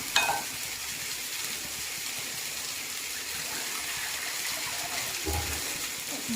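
A vegetable sabji fries in a pan as water is poured in, giving a steady broad sizzle and watery hiss with a few soft stirring knocks.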